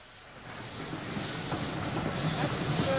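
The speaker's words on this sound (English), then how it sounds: "As the train carrying Mrs. Moore pulls out of Chandrapur station" A train pulls out of a station, heard as a steady, broad rumble and hiss that slowly swells over a few seconds, with faint rail clatter underneath.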